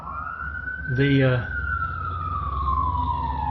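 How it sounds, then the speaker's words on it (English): An emergency vehicle siren holds a steady wailing tone that slowly falls in pitch, loud over a constant low traffic rumble, with a brief spoken word near the start. "Remember, when you hear that siren"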